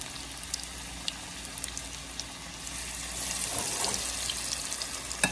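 Cabbage fritters frying in an overheated pan give a steady crackling sizzle. Scattered pops and spits sit over it, and the sizzle swells a little louder partway through.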